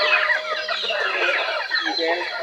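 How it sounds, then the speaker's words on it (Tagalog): A crowd of farm poultry clucks and chatters continuously up close, dense overlapping calls from several birds filling the whole stretch without pause. "Yung ating barako na to."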